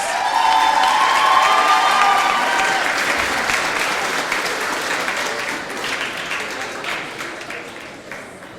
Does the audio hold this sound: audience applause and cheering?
yes